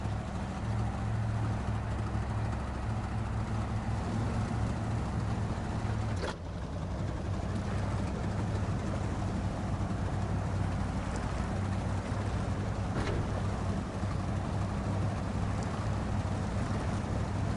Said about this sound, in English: It's like it's just idling all the time.